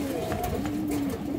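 Giribaz high-flyer pigeons cooing close by, a short low throaty coo with a faint voice in the background.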